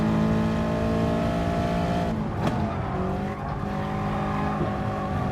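Toyota 86 racing in Gran Turismo Sport, with a steady, loud engine drone held throughout and a brief tire squeal or skid near the middle, with no talk.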